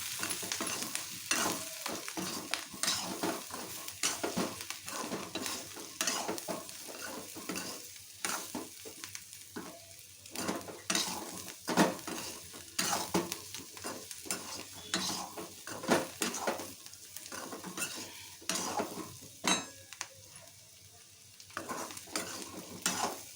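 Pieces of colocasia (taro root) fry in a pan with salt and chili powder while a spoon stirs them, giving a soft continuous sizzle broken by frequent close scraping and clinking strokes against the pan.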